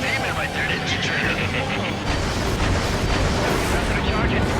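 Attacks slam into the base of a rail cannon in the Ace Combat 7 video game, producing a continuous loud rumble of explosions and booms with jet noise. Radio voices talk over the din.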